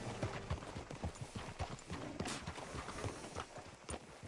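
Horse hooves clip-clop at a steady walking pace in Red Dead Redemption 2, the close, even rhythmic hoofbeats running throughout over a quiet game ambience with no talking.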